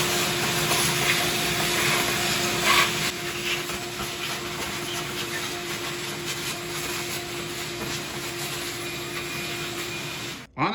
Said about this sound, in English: Now I am going to take a vacuum cleaner and try to vacuum up all of this dirt around here